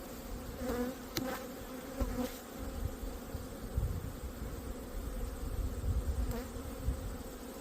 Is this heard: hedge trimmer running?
no